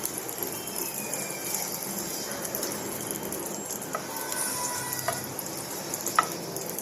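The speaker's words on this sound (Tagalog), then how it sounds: "Malapit nang maluto yung hotdog ni Bonbon." Hotdogs frying in a pan give off a steady, soft sizzle that runs throughout, with a few faint clinks and scrapes from stirring near the end.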